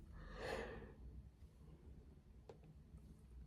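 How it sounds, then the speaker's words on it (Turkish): One slow, breathy yawn, swelling over the first second and then trailing off into faint, quiet room noise with no talking. "Şimdi haritayı çevirdiğim zaman ay esneyeceğim lütfen kusura bakmayın."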